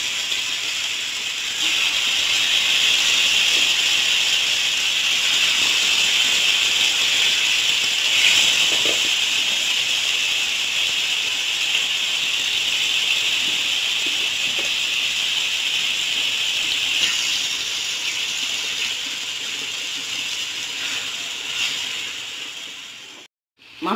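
Fish pieces frying in hot oil in a frying pan over lightly fried onion, a loud, steady sizzling hiss sustained for a long stretch, easing slightly before cutting out at the end.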